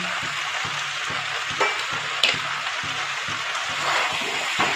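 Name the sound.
mixed vegetables sautéing in a pan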